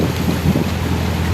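Wind buffets the microphone on a canal boat trip in cold, wet, drizzly weather, a steady broad rushing roar with low gusty rumbles and no voices.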